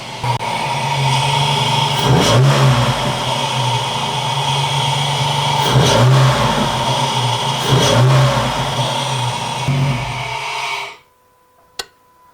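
A Jeep Liberty engine with a K&N cold air intake revs hard several times in surges, roaring loudly between them, then cuts off abruptly, leaving near silence and one faint click.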